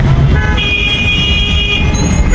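Dense road traffic at the Maha Kumbh Mela in 2025, with a loud, sustained vehicle horn blaring over a constant rumble of engines and buses close by.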